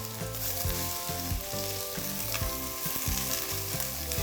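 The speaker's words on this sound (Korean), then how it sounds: "기름에 볶아주는 시간을 한 5분 정도 볶아야 되겠더라고요" Burdock root stir-fries in hot oil with a steady, close sizzle and crackle, heard alone under background music.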